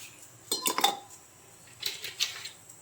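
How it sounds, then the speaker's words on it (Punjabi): Ice cubes dropped into a bowl of water set aside for kneading dough, two short bursts of clinking, a quick cluster of knocks followed after a pause by a couple more, close and fairly quiet, with no talking. "ਹੁਣ ਪਾਣੀ ਦੇ ਵਿੱਚ ਆਪਾਂ ਬਰਫ਼ ਦੇ ਟੁਕੜੇ ਪਾ ਲਾਂਗੇ"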